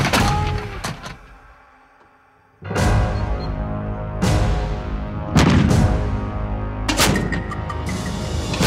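LG-1 Mark II 105 mm artillery gun firing repeatedly, each round a loud, close boom with a long rolling echo, following one another a second or two apart.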